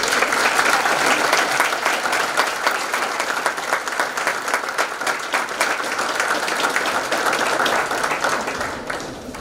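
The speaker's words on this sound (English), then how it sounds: "Let us all applaud." An audience applauding at a high school National Honor Society induction ceremony, dense sustained clapping from many people throughout that tapers slightly at the end.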